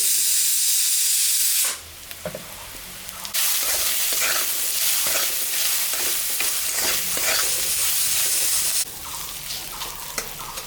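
Flat beans frying in a pan with turmeric and salt, a loud steady sizzle with stirring scrapes, dropping quieter for a moment near the start and again toward the end.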